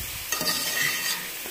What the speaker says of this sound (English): We're going to fluff it with a fork to incorporate the veggies